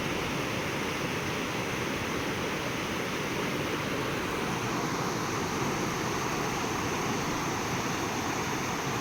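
The Chinnar river flows past, a loud, unbroken rush of water that stays steady and close throughout, with no voices.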